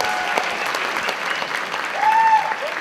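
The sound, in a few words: applause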